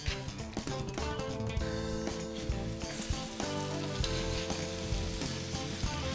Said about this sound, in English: I'm gonna add the steaks seasoned side down and let them sear for 2 minutes